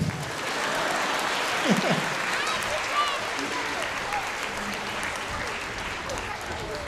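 Concert audience applause, a sustained wash of clapping from a crowd, steady and moderately loud, with voices talking over it.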